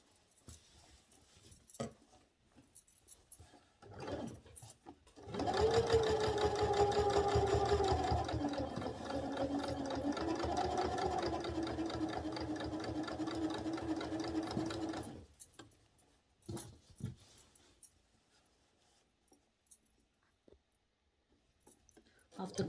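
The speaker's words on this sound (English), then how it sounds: "So keep stitching it until you go right at the end of the collar" Sewing machine stitching along a collar, one continuous loud run of about ten seconds with a rising whine, framed by quiet clicks and handling noises before and after.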